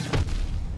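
A bomb detonates in Hollow Knight, a single muffled low boom that swells briefly and fades into a rumbling tail, fairly loud with no voices over it.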